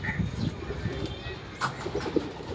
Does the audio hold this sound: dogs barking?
no